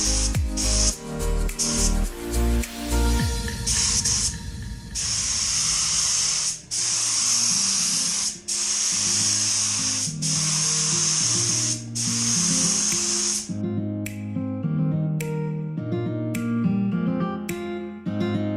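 A spray gun lays clear coat onto a Honda CRX roof panel in long, steady hissing passes, each burst lasting a few seconds with short breaks between, close and loud, with faint clicks and shuffling in the pauses.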